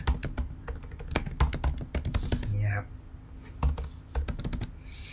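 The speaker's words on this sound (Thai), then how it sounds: "ใครไม่เจอก็พิมพ์หา" Keys clatter on a Mac computer keyboard in quick irregular bursts of close, crisp taps, with a brief pause in the middle and a little speech in the background.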